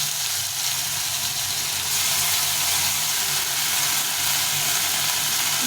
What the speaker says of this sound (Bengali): টমেটোটা ভেজে নিয়েছি এখন আমি এখানে আদা জিরা লঙ্কা আদা জিরে লঙ্কা একটু বেটে নিয়েছি ওটা দিয়ে দেবো